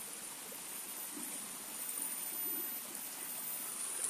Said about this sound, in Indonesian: Nah, ini adalah air dari pembuangannya.